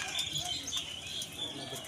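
Racer and matrass pigeons coo softly in short repeated phrases, with faint chirps and rustling nearby and some background murmur.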